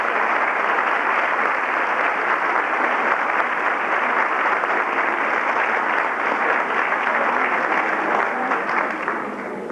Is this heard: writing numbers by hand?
no